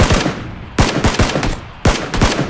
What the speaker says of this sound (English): I'm gonna start firing once he does.